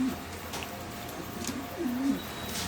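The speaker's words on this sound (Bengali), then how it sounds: "আজকে আপনাদের মাঝে বেশ কিছু কবুতর নিয়ে চলে আসলাম" Pigeons, including a pair of Andalusian show birds, give soft low cooing calls in a couple of short bursts over a steady faint background, with no voices.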